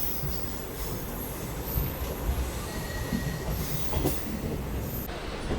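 India's first hydrogen train rolls from Sonipat toward Jind, a steady, loud rumble of wheels on track with squealing metal tones and faint clatter throughout, no voices.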